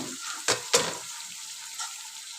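Prawns dropped into a pan of browned onions for a bitter gourd fry, two quick sharp sizzle bursts followed by a softer steady hiss and one more brief flare.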